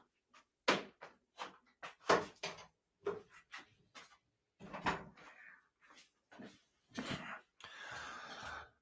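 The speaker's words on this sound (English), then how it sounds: "I'm going to close the door" A series of sharp knocks and thuds, like a door being handled and shut in a room, comes in quick irregular bursts, fairly quiet, with a rustling scrape near the end.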